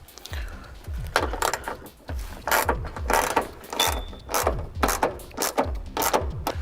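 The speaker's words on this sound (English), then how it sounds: "we can go ahead and tighten the fasteners" Repeated clicking bursts of a hand ratchet tighten the tail lamp fasteners on a 1967-81 Camaro, with close, sharp pawl ticks in regular spurts and short pauses between strokes.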